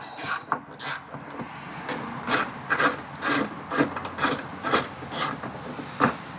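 A hand ratchet works loose 10 mm bolts on a Toyota Tundra door check, giving repeated close, rasping clicking strokes in a steady back-and-forth rhythm.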